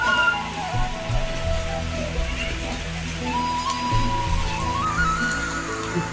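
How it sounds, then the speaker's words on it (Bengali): Steady rain falls in a continuous broadband hiss throughout, with tonal whistling and some music-like lines mixed in, and no clear voices. "কি বৃষ্টি দেখো।"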